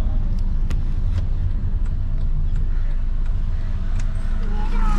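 A car's engine and tire rumble carries steadily and close as it pulls into a hospital parking area, a low continuous drone with faint sharp clicks and people talking over it.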